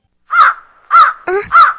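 A crow caws three times in a slow, even rhythm, loud and close, with a short burst of other sound between the second and third calls.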